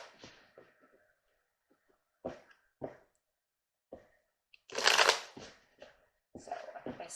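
Tarot cards are shuffled by hand in a quiet room, several short riffling bursts and soft clicks separated by pauses, with one longer, louder shuffle near the middle.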